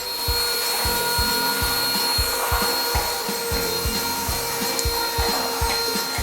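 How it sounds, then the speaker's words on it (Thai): A cheap Chinese Han River cordless vacuum cleaner picks up household dust, giving a steady motor hum with a regular, rhythmic scraping or rubbing as the nozzle is pushed back and forth close by. "ลองทดสอบดูดฝุ่นทั่วไปครับ"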